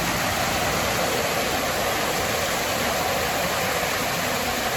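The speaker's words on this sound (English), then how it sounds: "we found this little area with some stunning little waterfalls" Small waterfalls rush steadily at Belton House in Grantham, Lincolnshire, a continuous dense wash of falling water heard close and fairly loud, with no breaks.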